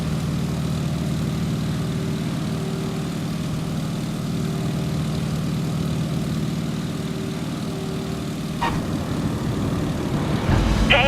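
A Stearman biplane's propeller engine in Microsoft Flight, throttled back to idle, drones steadily and loudly for the whole stretch, with a brief click and a rise in engine noise near the end and no voices.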